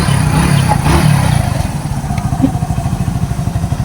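A Hero Splendor motorcycle engine revving during a mileage tune-up in a garage, a loud close rev that drops into a rapid, pulsing idle putter, steady to the end with no speech.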